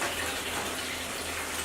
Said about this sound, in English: We're going to do is go ahead and lower the net in.